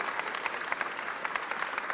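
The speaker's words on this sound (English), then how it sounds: "Please join me in a warm round of applause for our fantastic panel." Steady applause from a conference audience for a government AI panel, many hands clapping continuously at even volume with no speech.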